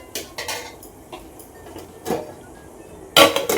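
A utensil stirs boiling rice in a metal pot for Dindigul thalappakatti biryani, giving scattered metallic clinks and scrapes, with a sharper clatter near the end against a quiet background.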